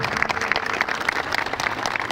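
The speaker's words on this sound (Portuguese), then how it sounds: "Vamos aplaudir." An audience applauds a speaker at an aviation event, a brief burst of steady crowd clapping from a large room, with faint voices mixed in.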